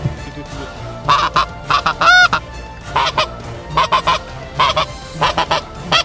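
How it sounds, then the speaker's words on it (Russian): Geese honking loudly in repeated bursts during autumn migration at a hunt, several close calls in quick succession with brief pauses between them. "Вот это гусь, Это гусь."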